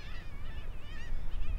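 Dense, overlapping calls from a breeding seabird colony on the narrow ledges of Bempton Cliffs, a steady wavering chorus of many birds over low wind rumble.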